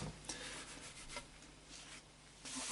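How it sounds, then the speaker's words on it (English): A fresh, partly dried coat of Danish oil is rubbed down on an oak and sapele lap steel guitar body, making a quiet, continuous soft rubbing and swishing with faint irregular strokes. "I'm just rubbing this down just to remove any pools"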